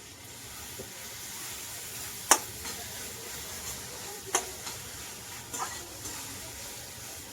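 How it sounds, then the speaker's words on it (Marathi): Onion and tomato frying in a pan give a low, steady sizzle, broken by a few sharp clinks and scrapes of a utensil. "कांदा टमाटा सगळं भाजून झालंय"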